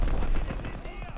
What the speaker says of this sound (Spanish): Se oyen disparos. Muy peligroso.